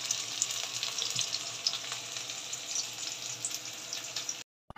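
Onion and cabbage frying in a pan, a steady close sizzle with faint crackles and occasional stirring, ending abruptly in silence.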